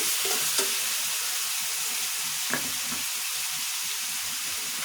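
Beef stir-fried in a pan, a dense, steady close sizzle and hiss with a couple of brief stirring scrapes and no voices.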